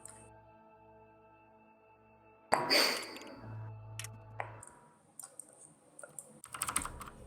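Computer keyboard typing during an online game match, a scattered burst of clicky keystrokes and taps at moderate level following a quiet hum, with no talk.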